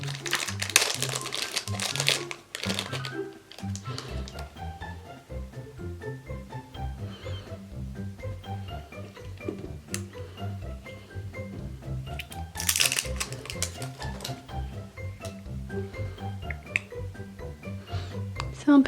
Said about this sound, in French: Je vais ouvrir le petit sachet puis on verra ce que j'ai.